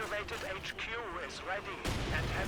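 Mortar and artillery fire in the Company of Heroes 2 war game, a sustained rumble of distant shelling that swells into a louder burst near the end, under someone talking over the action.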